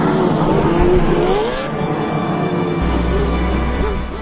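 The Machina Rockcrawler Pro RC car drives off-road through a forest area, its electric motor giving a continuous, loud whine with shifting pitch as it climbs and maneuvers, with no one talking.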